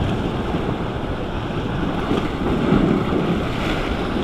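Strong wind buffets the microphone on a rocky east Izu shore, a loud continuous rushing roar mixed with the wash of surf, steady throughout with no talking.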